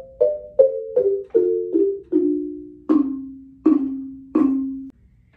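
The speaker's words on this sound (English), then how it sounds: "The xylophone will also be used to play the baby owls or owlets." Xylophone struck with mallets in a descending run of eight notes, the last three sustained at a lower pitch, playing clear and close with no voices.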